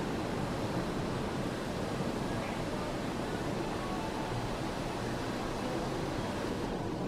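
Ocean waves at Amber Cove in the Dominican Republic make a steady, even wash of surf with no distinct single breakers, heard continuously with a light windy rush.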